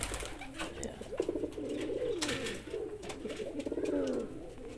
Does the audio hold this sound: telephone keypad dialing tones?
no